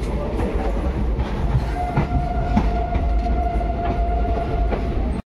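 An express train rolls along the rails with a loud, continuous rumble and rhythmic wheel clatter, heard close from on board, with a faint steady tone running through part of it.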